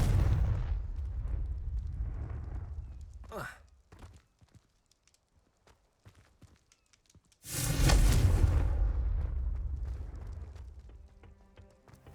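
A Confringo blasting spell in the video game Hogwarts Legacy erupts in a loud, sudden explosion partway through, following a quieter stretch with a voice and scattered thuds, then rumbles off as it fades.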